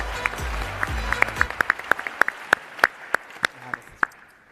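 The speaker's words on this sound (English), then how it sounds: "Let's give them a round of applause." Audience applause at a pitch competition, starting thick with murmuring and low voices, then thinning to a handful of distinct, spaced claps that fade out.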